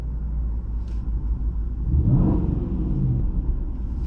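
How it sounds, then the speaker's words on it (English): Range Rover SVR engine with a modified exhaust idles with a deep, close rumble, then swells briefly into a throaty rev before settling back to a steady idle. "So let's hear it. Should we give it a rev?"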